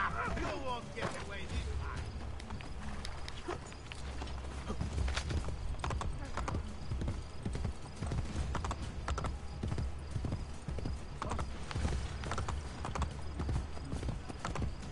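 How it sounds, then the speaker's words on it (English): Galloping horse hooves in Assassin's Creed Brotherhood, a steady rapid clip-clop running throughout under game music, effects and occasional character voices, with a brief whinny. "Now I have a horse."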